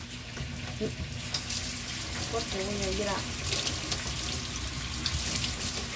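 Water runs from a kitchen tap into the sink during home cooking, a steady splashing stream under short bits of Spanish-speaking voices, with a few clinks nearby.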